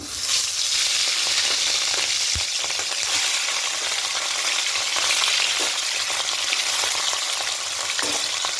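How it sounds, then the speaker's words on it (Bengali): Pieces of rohu fish fry in hot mustard oil in a kadai, making a loud, dense, steady sizzle with scattered small pops throughout and no voices. "এদিকে কড়াইয়ে সর্ষের তেল দিয়ে আগে থেকে তেলটা গরম করে দিয়েছি এবার তেলের মধ্যে মাছগুলো দিয়ে দেবো"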